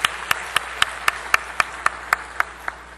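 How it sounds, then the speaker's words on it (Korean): Steady, evenly spaced handclaps at a brisk beat, crisp and moderately near, in a church congregation during a Sunday worship service, with no talking. "우리 역시 중고등부 선생님들을 위해서도 한번 큰 박수로 한번 좀 축하해 주셨으면 좋겠습니다."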